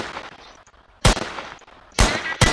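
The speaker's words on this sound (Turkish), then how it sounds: "Kanka arkamdan sana sıkıyorum." Gunfire in the video game GTA: a few sharp, loud shots with brief bursts, heard over a quiet game background with no talk.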